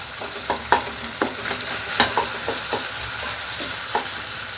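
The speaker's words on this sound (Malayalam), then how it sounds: "തക്കാളി ഇങ്ങനെ നമ്മൾ ഇളക്കാൻ ഉപയോഗിക്കുന്ന ചട്ടകം കൊണ്ട് ഒന്നിങ്ങനെ ഉടച്ച് കൊടുത്താൽ മതി കേട്ടോ." Cooking tomatoes being mashed and stirred with a spatula in a pan, a low sizzling bed broken by repeated sharp scraping and tapping strokes, close and fairly regular.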